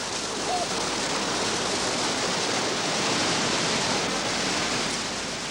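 River rapids and waterfalls rushing on a course with treacherous sections, a loud, steady roar of white water that continues unbroken throughout.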